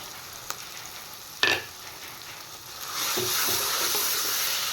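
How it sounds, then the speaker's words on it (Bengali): Ground shrimp paste fries in a pan with turmeric, a steady crackling sizzle broken by a sharp spatula clatter and scraping, then the hiss swells louder and denser as the paste is stirred in, close by with no talking. "এবার ভালো করে মিশিয়ে আমি একদম ভাজা ভাজা করে নেব এটা"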